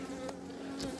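Honeybees buzzing at an opened hive frame during a colony inspection, a dense, close, steady drone with a few individual bees passing nearer.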